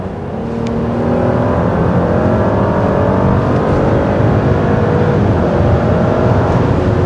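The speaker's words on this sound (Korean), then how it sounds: "이렇게 풀악셀 밟았는데도 가솔린 치고는" An Audi A8L 55 TFSI with a 3.0-litre petrol engine accelerates at full throttle, a loud, steady engine roar that swells and holds as the heavy sedan gathers speed.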